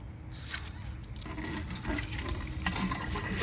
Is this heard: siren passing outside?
no